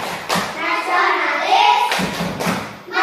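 Schoolchildren in an Indonesian fourth-grade classroom perform the Tepuk PPK clapping game, rhythmic hand claps and thumps mixed with loud group chanting of young voices throughout.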